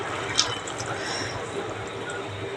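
Liquid poured steadily into a simmering Kerala-style tomato curry in a pot, a soft continuous gurgling trickle heard close with a single brief splash near the start.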